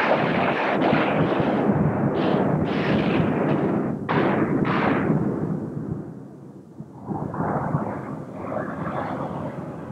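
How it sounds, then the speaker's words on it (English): A battleship's center gun fires a heavy shell with a huge booming blast, its thunderous roar and rumbling echo rolling on for several seconds before a lower lingering rumble. "First gun, center gun, shoot!"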